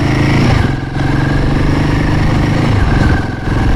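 A Royal Enfield Himalayan 450 motorcycle rides at about 30 mph through a village, its engine a loud, steady, close throbbing drone with no voices.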